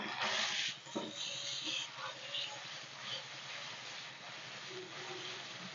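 Ginger-garlic paste fries in a pan over onions for a mixed vegetable dish, giving a soft, steady sizzle with a few louder crackles and clinks near the start before settling into a faint hiss.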